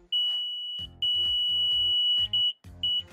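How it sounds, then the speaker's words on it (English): Alarm of an Arduino-based intruder detecting device: a loud, piercing continuous electronic tone sounding alone, cut by brief gaps and shorter bursts. "if you're going to ask me about how loud the alarm is"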